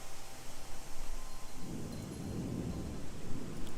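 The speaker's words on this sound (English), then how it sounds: "Oh, Arya's gonna miss the storm." A thunderstorm rolls on with a steady hiss of rain, and a deep, drawn-out rumble of thunder swells midway and lingers. It sounds fairly loud and continuous, and nobody talks over it.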